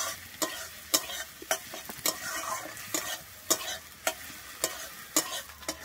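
Onion and green chili fry in a pan while a spatula strikes and scrapes in a regular rhythm, about two sharp clacks per second over a light sizzle, close up with no speech.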